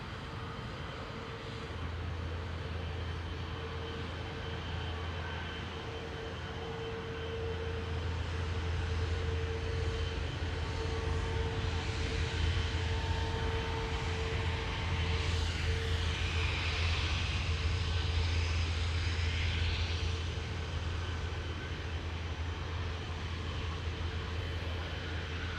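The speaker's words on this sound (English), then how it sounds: "Finnair A350 in the background, Cathay Pacific in the foreground" Finnair and Cathay Pacific Airbus A350 airliners, including an A350-1000, departing Amsterdam Schiphol, their jet engines a sustained low roar with a steady whining tone that grows a little louder midway and holds to the end.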